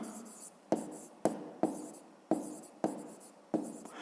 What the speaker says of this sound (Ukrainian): Записуємо відповідь. Пишемо